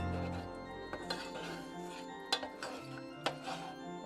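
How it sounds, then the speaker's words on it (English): A spoon stirring milk into a Cajun mac and cheese sauce in a pot, faint scraping with a few sharp clinks of utensil against the pot, quiet and intermittent. "Make sure that's stirred around well."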